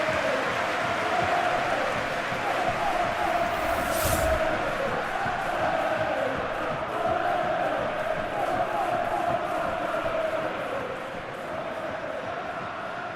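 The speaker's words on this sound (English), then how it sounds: "at least the crowd are appreciative of his efforts" Stadium crowd in a football video game set in the Belgian league, a constant loud roar of cheering and chanting with commentators talking over it.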